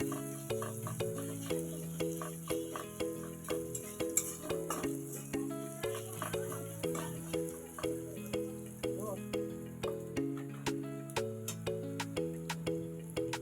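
Garlic fries in hot oil for a jackfruit curry, a steady soft sizzle running under louder music with a stepping melody.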